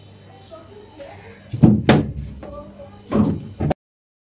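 A door is closed and locked from outside in two loud close thuds with rattling, separated by quieter handling noises and faint background tones.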